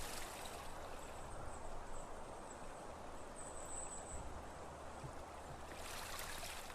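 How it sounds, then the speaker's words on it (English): Water flows in a steady, unbroken rush in the video game Gabriel Knight 3: Blood of the Sacred, Blood of the Damned. It stays even from start to end, with a faint high whistle drifting above it midway. "I guess that's the sound of the water."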